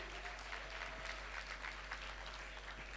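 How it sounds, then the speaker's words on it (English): Faint, distant audience applause at a high school graduation ceremony in Kampala, steady clapping over a low constant hum. "Can we please get another round of applause, ladies and gentlemen?"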